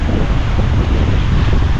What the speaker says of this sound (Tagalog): lakas pa ng hangin dahil sa habagat ng bagyong Francisco